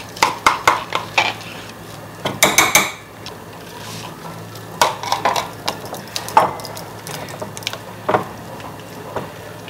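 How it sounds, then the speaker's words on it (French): Leftover butter being mixed into a no-bake lemon meringue tart filling, with repeated clinking and scraping of a utensil against a bowl in uneven bursts, close and fairly loud. "Je vais incorporer mon petit beurre qui est resté."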